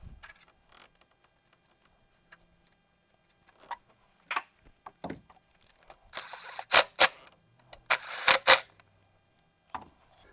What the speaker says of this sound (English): So we're going to go ahead and fasten this down.